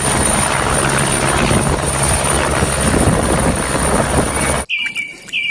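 Toy helicopter sound effect: a steady loud whirring helicopter rotor drone with a high whine on top that cuts off abruptly, followed by a few short electronic chirps.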